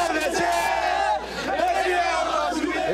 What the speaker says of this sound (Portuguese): essa aí já é a fila, já é o movimento da venda de ingressos para esse jogo com o Grêmio, Fael.